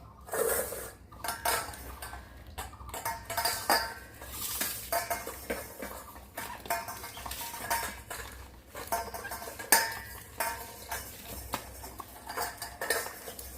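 Cutlery scrapes and clinks against plates as rice with boiled pointed gourd, carrot and pumpkin is eaten at home, a busy irregular run of close metallic taps and scrapes over a quiet low hum.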